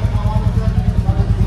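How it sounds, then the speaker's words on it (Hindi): A Royal Enfield Classic 350 motorcycle engine idles nearby with a steady, low, rhythmic thumping pulse that runs unbroken through the short stretch. "बाकी आप आवाज़ सुन सकते हो कैसे आएगी।"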